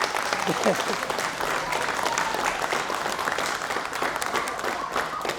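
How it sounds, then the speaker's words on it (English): A seminar crowd at a jiu-jitsu guard workshop claps steadily for several seconds, a dense even patter of many hands, with speech mixed in underneath. "you got all the big clap."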